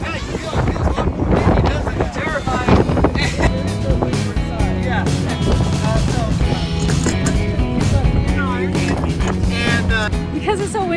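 Strong wind buffets a sailboat at sea during a coastal cruise, with sails reefed; gusty roar and rattling mixed with splashing and creaking, while people talk throughout.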